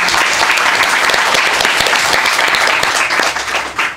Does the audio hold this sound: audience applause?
yes